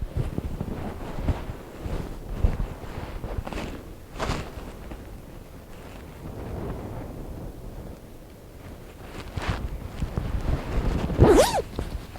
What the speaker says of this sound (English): I'm gonna zip this thing up